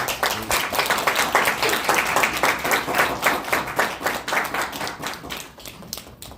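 Lecture-hall audience applauding after a talk, many hands clapping in a dense, steady burst that stays strong for several seconds, then thins and fades near the end.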